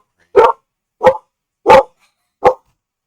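Four sharp, loud barks from an indoor dog, close by and evenly spaced with silence between them, no talking.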